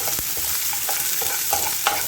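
Chopped onion frying in a pan for a fenugreek-leaf junka, a continuous close sizzle with several soft stirring scrapes and light clinks against the pan.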